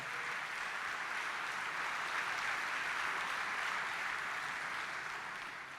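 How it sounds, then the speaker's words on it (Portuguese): Applause from a church congregation fills the whole span as a steady, even wash of clapping at moderate level, heard alone without any voices. "Bate palmas para aquele que exaltou a Jesus entre os mortos."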